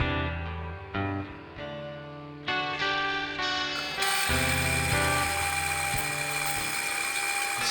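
Electric drill boring holes into a guitar body through a template, a loud high-pitched whine that starts and stops in several bursts before running continuously.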